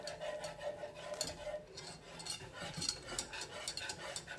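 Alfredo sauce stirred in a pot, a faint continuous scraping and swishing of a utensil against the pan with small clinks, quiet and steady.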